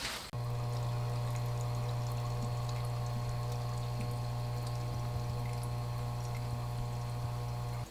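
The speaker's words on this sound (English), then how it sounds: "the agitation from the bubbles just spray enough to get everything around it wet" A steady bubbling, trickling water sound from aquarium air bubbles splashing at the surface of a shrimp tank, with a constant low electrical hum underneath, continuous and close.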